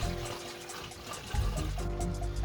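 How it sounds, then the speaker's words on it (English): A soft gurgle of liquid trickling through a funnel and filling a bottle, with a low rushing flow that surges midway and continues steadily. "the funnel is set, so I am pouring it right in."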